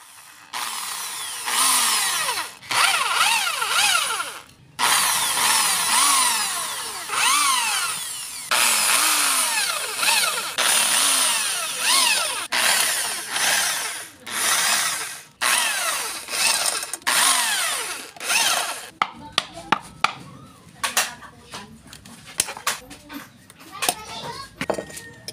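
A power drill works at the swing arm bushing of a Yamaha Mio i 125 scooter, whining in repeated bursts that rise and fall in pitch and stop between passes; children are heard playing and talking in the background.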